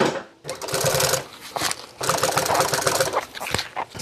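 A sewing machine sews car seat upholstery for a 1966 Ford Galaxie in two loud bursts of rapid stitching separated by brief pauses, ending with a short final run.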